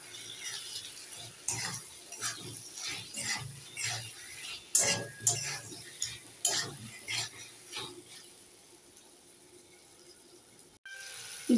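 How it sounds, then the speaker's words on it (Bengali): Fried potatoes being stirred into a katla fish curry in a pan, irregular scraping and clattering strokes of a utensil against the pan, close and moderately loud, easing off toward the end. "এবার দিয়ে দেব ভেজে রাখা আলুগুলো। একটু নেড়ে ছেড়ে দিয়ে দেব।"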